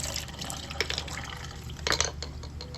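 Water drips and trickles in a clogged kitchen sink drain, scattered splashy drips and small gurgles over a low steady hum, close by with no talking.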